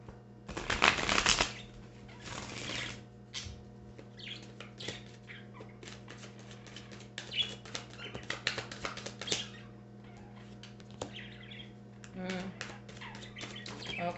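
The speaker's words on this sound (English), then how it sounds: "I'm gonna keep laying cards. I'm just reading the first line here of cards before I flip everything over." Tarot cards are laid out and flipped over on a table, making soft rustles, slides and light snaps, with a brisk shuffle-like burst at the start and faint chirps in the background.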